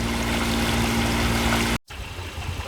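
A sailboat motoring under engine power in calm, windless conditions, its steady engine drone and water rush continuing loud and even, then dropping off abruptly before a quieter hum resumes.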